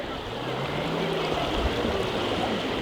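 The Dâmbovița River flows beneath an old wooden bridge in Rucăr, Romania, a soft, steady wash of running water heard at a moderate distance, low and continuous.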